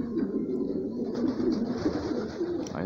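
A flock of homing pigeons around a house, with steady low cooing close by, continuous and moderately loud.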